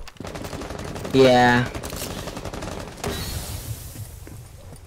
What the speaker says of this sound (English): probably because of all the gunfire going on